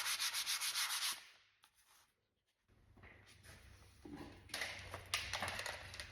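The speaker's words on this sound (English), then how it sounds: "hit it very quickly with a piece of sandpaper or a sanding block" Rapid back-and-forth rasping of sandpaper on a painted piece between coats, close and rhythmic, pausing briefly in the middle before resuming in quick strokes.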